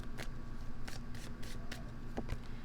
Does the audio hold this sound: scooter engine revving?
no